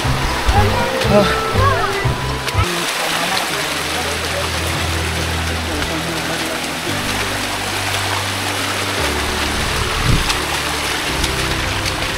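Monsoon waterfall at Korigad Fort near Lonavla, a constant roaring rush of falling water close by, with people talking over it.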